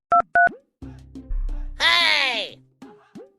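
A telephone is dialed with two short, loud tone beeps at the start, followed by talk, a rising whine and more voices.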